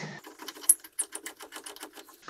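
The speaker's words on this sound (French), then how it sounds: "au début on peut utiliser une clé à cliquer" A ratchet wrench tightens the nut on a Maxigaz shock absorber for a Renault 4L, giving a fast, even train of crisp metallic clicks heard up close, with a brief louder click near the start.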